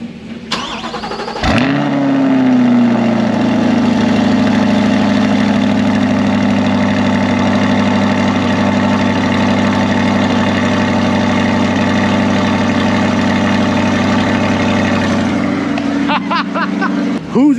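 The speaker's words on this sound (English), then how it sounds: "we're gonna get a cold start on the C8" Stock-exhaust Chevrolet Corvette C8 cold-starting: a sharp ignition burst, then a loud, steady high idle with a deep low rumble that holds for about fifteen seconds before revving slightly at the end.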